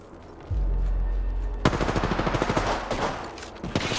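Gunfire in the battle royale shooter Apex Legends: a low rumble starts, then rapid automatic bursts crackle loudly in a fast repeating rhythm through the rest of the moment, with no talking.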